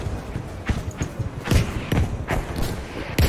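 Bombs exploding in a multiplayer air-combat video game, heard as a string of muffled, booming thuds at irregular intervals over a constant low rumble of game noise.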